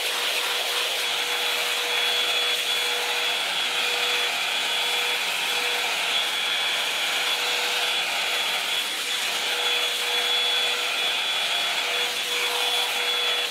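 A hair dryer with a styling nozzle attachment blows steadily with a whining hum, unbroken from start to finish, close and fairly loud.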